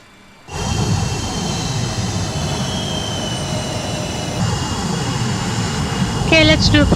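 Jet engines of an MD-80 spool up for the takeoff roll in Microsoft Flight Simulator, a steady loud roar with a high whine that begins abruptly and holds, with a brief beeping tone near the end.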